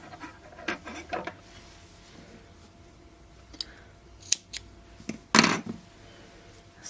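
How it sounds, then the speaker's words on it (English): Scissors snipping crochet yarn at the end of a piece of work: a few close, sharp cuts spread across a quiet room, the clearest and loudest near the end. "and then cut the yarn"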